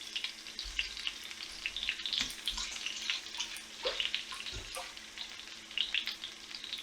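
Steak sizzles in a hot pan with a steady, close crackle and hiss, scattered with louder spits and pops.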